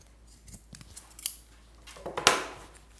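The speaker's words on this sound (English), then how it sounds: "finally cut the remaining ropes of keychain" Scissors snip through the leftover macrame rope ends of a handmade knotted keychain, a few soft close clicks followed by one sharp, louder cut near the end, with no talking.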